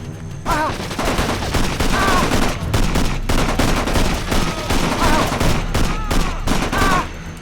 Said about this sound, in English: They made it sound like a belt-fed machine gun.